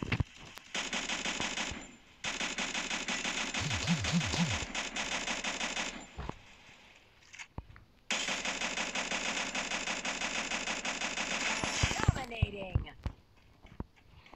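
Gunfire in the Free Fire video game: long automatic bursts of rapid rattling shots, loud and close, broken by short pauses and ending with a few scattered shots.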